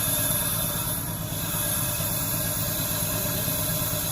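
A Nissan Maxima engine runs at a steady idle with a hissy, buzzing drone that may include exhaust noise, constant and fairly close with no talk.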